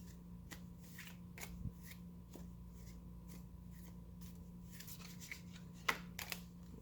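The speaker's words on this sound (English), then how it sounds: "they're not done shuffling, so I keep shuffling" Quiet, close tarot card shuffling, soft repeated riffles and flicks at an irregular pace over a low steady hum, with no voices.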